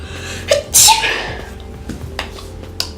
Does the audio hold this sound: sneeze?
yes